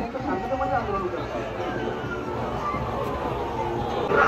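A large crowd of Maratha protesters on the move toward Azad Maidan in Mumbai, a dense steady hubbub of many voices babbling at once, close and loud throughout.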